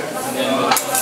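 Vinegar and garlic being stirred together in a bowl for a Korean harissa carrot salad dressing, with a steady scraping, clinking swirl of utensil against the bowl throughout.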